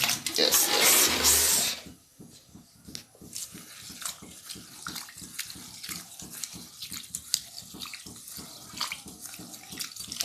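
Tap water gushes loudly for washing in a home kitchen for about two seconds, then cuts off, leaving light clinks and clatter of handling.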